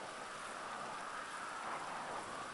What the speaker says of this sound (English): It's raining. It's actually raining in here.